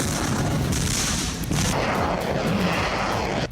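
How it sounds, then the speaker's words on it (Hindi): Missile strikes launched by bombers during the Russian attack on Ukraine near Kharkiv: a continuous loud roar of blasts and rumbling booms that fills the whole stretch without a break, with no talk. "लेकिन मिसाइलों की ये मार बॉम्बर से किए जा रहे हैं। ये धमाके अभी और तूफानी होंगे"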